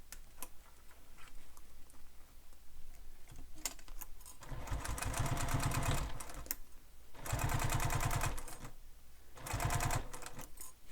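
Sewing machine stitching around a Bethany Beach bag panel in three loud bursts of rapid, even stitching, separated by quieter pauses with light handling clicks.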